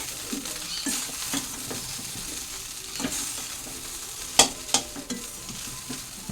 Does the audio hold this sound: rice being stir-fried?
yes